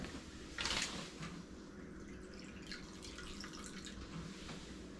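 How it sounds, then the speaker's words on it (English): A quarter cup of water is poured into dry gluten-free biscuit dough made with sour cream, giving a short, faint splash followed by quiet trickling and room noise. "So I'm going to add 1/4 cup of water."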